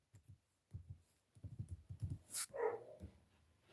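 Dogs bark in short, sharp bursts close by indoors, several quick yips in a row followed by a louder bark and some whimpering sounds.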